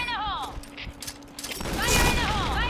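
Rapid automatic fire from the MX4 G submachine gun in the shooter game Point Blank, a dense burst of cracking shots under a voice talking, with game sounds layered around it.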